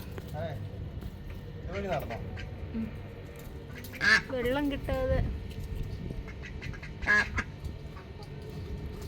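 Ducks quack on a farm in the UAE, a few loud nasal calls in short bursts close by, interspersed with people talking.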